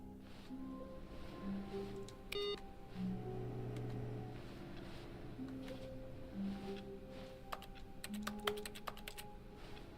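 Keyboard typing in the video game The Stanley Parable: quick clusters of soft key clicks come in short bursts over a low, steady office hum, with a denser flurry near the end.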